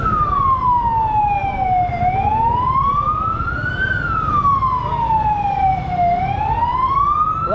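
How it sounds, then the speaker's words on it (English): A police siren wails loudly and close by on a Kuala Lumpur street at night, its pitch sweeping slowly up and down in long repeating cycles, with traffic rumbling underneath. "That police siren is annoying though."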